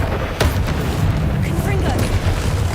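In Hogwarts Legacy, the Confringo spell sets off explosions: two sharp blasts over constant rumbling combat noise. Spoken voices are mixed in.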